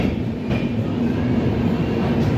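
A Hazur Sahib Nanded to Jammu Tawi Humsafar Express train runs past at speed, a loud, steady rumble and rattle of wagons filling the whole moment with no voices.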